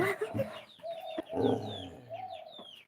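Chickens cluck softly in short low calls while sparrows chirp in quick rising notes around scattered rice, all fairly quiet and close by.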